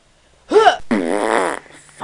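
A child's fart noise, likely made with the mouth, comes up close and loud in two bursts. The first is short and honking. The second is longer and rasping.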